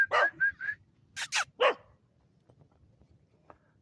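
A puppy gives a few short, high yips in quick succession near the start, followed by two or three sharper barks, then quiet room background with faint scattered noises.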